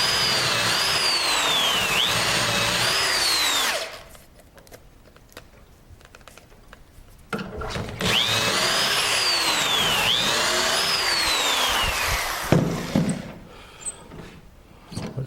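A power drill bores dowel holes through a Dowelmax jig while a workbench is built, with two loud whining bursts of drilling, each several seconds long, separated by a quieter pause with handling clicks.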